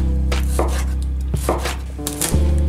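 A knife chops cherry tomatoes in halves and slices on a board in a home kitchen, with a string of crisp, close cuts landing at an uneven pace and a steady low hum running underneath.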